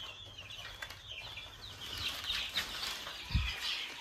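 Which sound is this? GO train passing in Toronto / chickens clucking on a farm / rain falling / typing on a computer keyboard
chickens clucking on a farm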